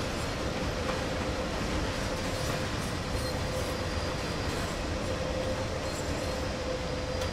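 A DB class 185.2 electric locomotive on the Main-Spessart line in the Train Sim World video game runs with a steady, even rumble and faint rail hum throughout, with no talking.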